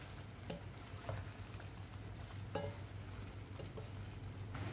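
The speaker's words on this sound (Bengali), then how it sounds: "আবারও সব কিছুকে একটু ভালো করে মিশিয়ে নেব" A spoon stirs a no-onion vegetarian curry with kasuri methi and garam masala in a pan. Faint, steady sizzling runs under several light scraping strokes spaced about a second apart, and no one speaks.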